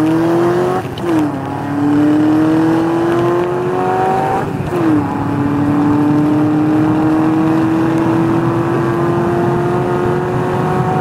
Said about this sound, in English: throttle roll from 60 out, starting in third gear.